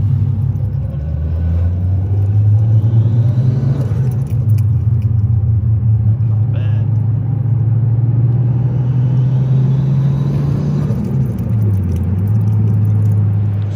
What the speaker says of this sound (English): you can hear the turbo working and it flutters and it's awesome